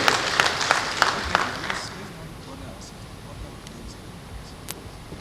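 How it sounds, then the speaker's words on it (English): Applause at an anti-corruption event honouring ICAN rises briefly in the first two seconds, scattered claps from an audience that soon fade into a quiet room murmur. "can you give a round of applause to ICAN for doing this?"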